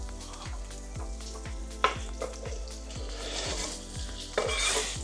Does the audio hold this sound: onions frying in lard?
yes